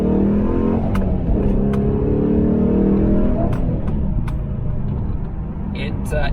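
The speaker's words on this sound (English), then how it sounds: "The car violently shoots forward" A 2020 Dodge Challenger R/T pulls hard under heavy acceleration, a loud, steady engine drone with rising harmonics and occasional clicks, while a voice talks over the car throughout.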